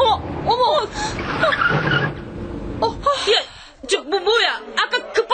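A radio drama effect of a bus skidding off a hillside road and overturning: tyres screech and a crash rolls by, mixed with dramatic voices and exclamations.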